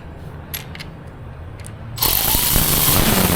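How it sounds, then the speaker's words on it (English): Quick ratcheting clicks from a 1/4 inch ratchet tightening bolts on a Honda Grom motorcycle, at first faint and sparse, then a louder continuous rasping mechanical burst close by, with no talking. "at the end with my 1/4" ratchet."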